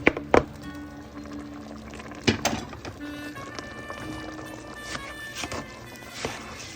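Five cups of rinsed rice poured into a cooking pot for rice and pigeon peas: a few sharp clattering bursts with short rushing pours, then quieter scattered rustles, near and moderately loud.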